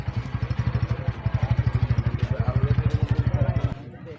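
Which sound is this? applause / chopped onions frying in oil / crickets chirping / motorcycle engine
motorcycle engine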